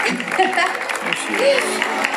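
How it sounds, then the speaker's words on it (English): An audience at a SeaWorld whale show greeting the killer whale Shuka with applause, a broad, even wash of clapping and crowd noise, somewhat distant, with a voice over a loudspeaker running over it. "Let's give a big round of applause to Shuka"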